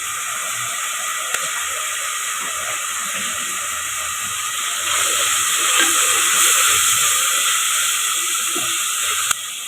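Mutton kurma masala with ginger garlic paste and chili powder sautéing in a pan, a steady close sizzle and hiss that swells a little louder midway, with faint stirring clicks.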